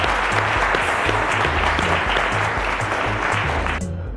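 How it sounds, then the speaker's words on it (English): A studio audience on a televised quiz show claps in steady, vigorous applause that fills the room at full volume and stops abruptly at the end. "A round of applause for mom."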